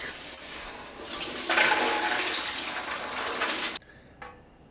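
Water gushes from a sink tap as beans are rinsed, a loud steady rushing stream lasting nearly four seconds before cutting off, leaving a faint knock afterward.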